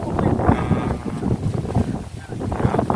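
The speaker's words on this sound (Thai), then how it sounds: "ไอ้ลมผ่ามาแล้วพี่น้อง" Strong wind gusting past an outdoor microphone, a loud continuous buffeting roar with occasional voices in the background.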